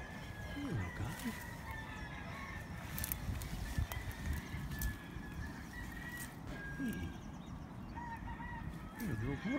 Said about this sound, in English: You're a little horse, huh?